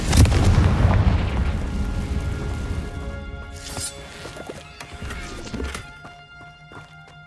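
Confringo blasting-curse explosions in Hogwarts Legacy, a loud booming blast at the start rolling off into rumbling debris, followed by quieter thuds and scattered game effects as it fades.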